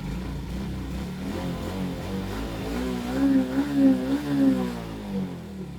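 A Shooter FI 115 motorcycle engine idles with a low, steady rumble that swells slightly in the middle.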